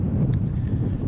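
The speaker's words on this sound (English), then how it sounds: "Bloody windy." Strong wind buffeting outdoors on the road to Coober Pedy in South Australia, a brief, loud, rumbling roar across the microphone with no speech.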